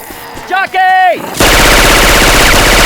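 Rapid automatic gunfire in Left 4 Dead 2 with Syphon Filter weapon sound effects, a loud dense burst that starts abruptly after a character voice calls out.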